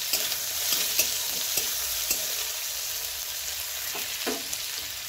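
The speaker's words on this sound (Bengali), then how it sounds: "এর মধ্যে দেবো 1/2 ইঞ্চি আদা চাঁচা, দিয়ে একটু ভেজে নেব।" Mustard seeds, cumin, white sesame and grated ginger fry in hot oil with a soft, continuous sizzle. Occasional light scrapes of stirring sound throughout, all fairly quiet and close.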